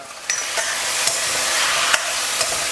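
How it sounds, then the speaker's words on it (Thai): Pork ribs stir-fry in a pan with red curry paste, oyster sauce, soy sauce, sugar and a splash of water, giving a loud, steady sizzle with a few sharp scrapes and knocks of a spatula tossing the meat. "ผัดคลุกเคล้าให้เข้ากันเลยครับ"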